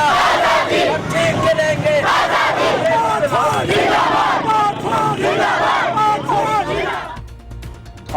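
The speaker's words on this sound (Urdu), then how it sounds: "پاکستان زندہ باد کے فلک شگاف نعرے" A large crowd at the Wagah border flag-lowering ceremony near Lahore, Pakistan, chants patriotic slogans in loud, rhythmic unison, many voices swelling together before fading near the end.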